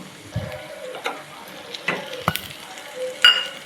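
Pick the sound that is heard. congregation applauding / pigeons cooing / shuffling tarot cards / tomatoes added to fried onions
tomatoes added to fried onions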